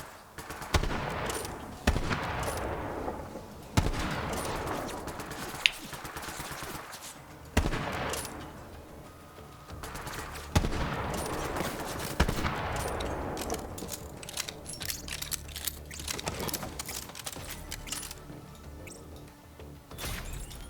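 Repeated shotgun blasts in Borderlands 3, fired by Amara the Siren during a boss fight, come as loud sharp bursts every second or two over a steady game soundscape.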